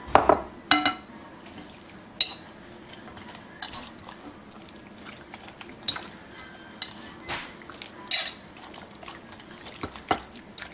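A spoon stirs Dominican chicken stew (pollo guisado) in a pot, giving soft scattered clinks and scrapes with wet sloshing, faint and intermittent over a quiet kitchen background.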